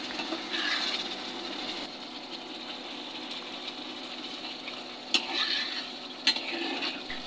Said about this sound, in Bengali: এখন চিংড়ি মাছ সহকারে মশলাটা ভালো করে কষিয়ে নিতে হবে